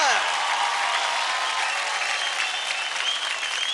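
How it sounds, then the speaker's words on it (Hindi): A studio audience at a televised dance competition claps loudly and steadily in one sustained burst, dense and close, with no break. "जोरदार तालियां हो जाए।"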